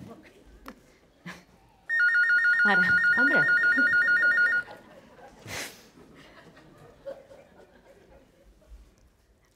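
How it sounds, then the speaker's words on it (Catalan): A telephone rings indoors with a bright, rapidly trilling bell for a few seconds, standing out clearly among scattered voices and laughter. "Bueno, sona el telèfon?"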